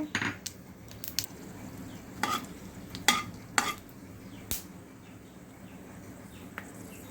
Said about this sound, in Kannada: ಹಾಗೆ ನಾವು ಮಸಾಲಾನ ಹಾಕ್ಕೊಳ್ತೇನೆ.